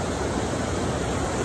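River water flows in a steady, dense rushing wash, close and loud with no breaks and no voices.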